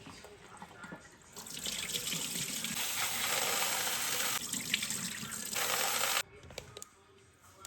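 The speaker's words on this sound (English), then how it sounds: "I'm going to wash this a few times and then I'm going to soak them overnight" Tap water runs steadily into a sink while black chana dal is washed, a loud broadband splash that swells in the middle and cuts off near the end, followed by a few small drips.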